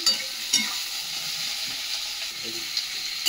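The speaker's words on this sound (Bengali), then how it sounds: "চলো পেঁয়াজটাতে যে একটুখানি নেড়ে নিলাম" Onions stirred in a pan of hot oil for an egg and tomato curry, giving a bright continuous sizzle with a few soft scrapes and knocks of the spoon, close and alone.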